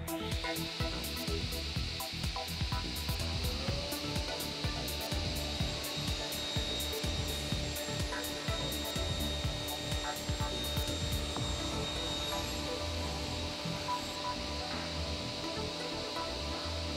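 A Felder Hammer C3 31 combination machine cuts a glued wooden seat to size, giving a steady, fairly quiet whirring hum with a continuous rasping cut and faint rhythmic ticks running throughout.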